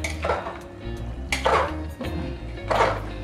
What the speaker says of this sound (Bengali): এবার আমি ঢাকনাটা সরিয়ে দিলাম